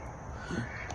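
Evening outdoor soundscape on a tea mountain: continuous insect hum with a brief bird call rising out of it midway, fairly faint and distant, no talking.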